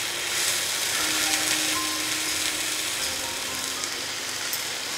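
Chicken pan-fries in a wine sauce with a steady, close sizzle and crackle that holds evenly throughout, with no talking.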